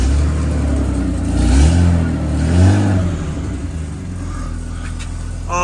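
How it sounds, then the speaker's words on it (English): A 1995 Jaguar XJR X306 engine, freshly fixed after an immobiliser fault, catches and runs, its loud close rumble swelling through a couple of revs before settling into a steadier idle. "This car has not started in a year and a half."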